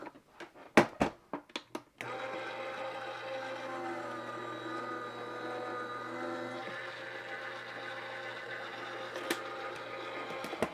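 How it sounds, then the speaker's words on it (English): A die cutting machine in a home craft room runs with a steady mechanical hum and whir after a few sharp clicks at the start, holding an even level with faint rattles throughout. "Let's run this through the die cutting machine."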